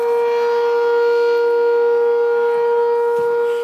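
A steady, loud, pure electronic tone with a few harmonics plays through the speaker of a 1962 Motorola black-and-white television that has a sound IF fault, droning unbroken for several seconds with no talking.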